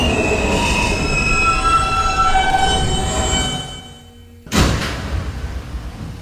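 New York City subway N train, an R160 car on the local run from Bay Ridge-95th Street to Astoria-Ditmars Blvd, rumbling steadily with squealing wheels, then a sudden loud jolt and renewed roar of the car underway.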